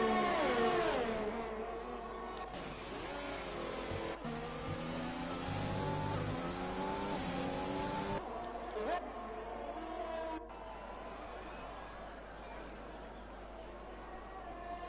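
Race cars in the Italy round of a sim racing league run nose to tail out of a chicane, engines droning and revving steadily under continuous commentary, with brief gear-change dips and pitch shifts.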